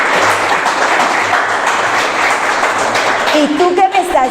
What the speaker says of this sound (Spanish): Denle un fuerte aplauso al Espíritu Santo.